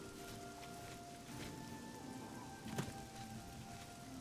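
Rain falling in the video game The Elder Scrolls IV: Oblivion, a soft continuous patter of rainfall on surfaces at low volume, steady and alone without talk.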